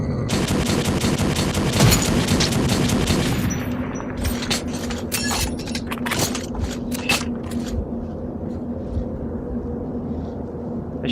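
Automatic gunfire from a gun in Metro 2033, a loud sustained burst that breaks into scattered single shots and clicks as it dies away, with no talk.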